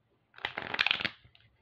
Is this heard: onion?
no